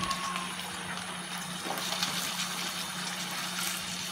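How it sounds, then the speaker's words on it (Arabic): Water poured into a paella pan, a steady broadband gushing pour with a faint low hum beneath, continuous and fairly close with no talking. "نقوي شويه الماء."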